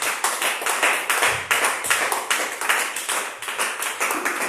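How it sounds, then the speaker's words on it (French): A church congregation claps together during a worship service, producing dense, steady rhythmic clapping that fills the room with no voices standing out. "On acclame Jésus."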